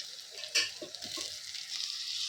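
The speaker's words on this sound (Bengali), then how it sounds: "এই যে আদা দিয়েছি, রসুন দিয়েছি, ভালো করে নেড়ে নেব।" Ginger, garlic and tomato are stirred as they fry in a pan, a soft close sizzle broken by a few scraping and knocking stirs early on, then settling into steady hissing.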